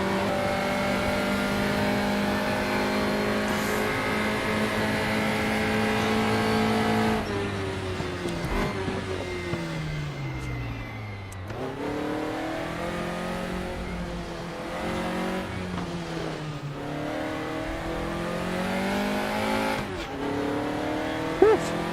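A race car engine in the RaceRoom racing game drones steadily, then revs up and down repeatedly through gear changes, with rising and falling pitch sweeps and brief tire noise.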